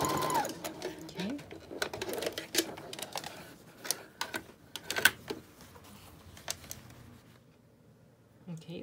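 A sewing machine stitches a fabric bag in short rattling bursts, with pauses between runs and a voice talking quietly nearby.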